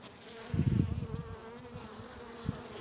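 Honey bees buzzing around hive frames during an inspection of a weak colony, a close, loud burst of buzzing early on followed by a softer ongoing hum and another brief buzz near the end.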